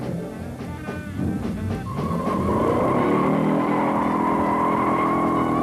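A 1971 Ford Torino GT with a 429 Cobra Jet engine and standard 3.50 rear axle accelerates hard, its loud engine note climbing steadily in pitch and swelling into a sustained roar with no talking.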